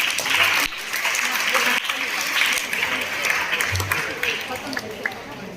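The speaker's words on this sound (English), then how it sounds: "Let's cheer them up by a huge round of applause." School audience at a science-themed fancy dress competition gives sustained applause for a class performance, continuous clapping throughout with a few louder bursts and faint voices mixed in.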